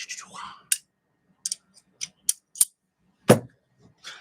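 Several short metallic clicks and snips at irregular intervals, close up, with brief rustling at the start and no talk.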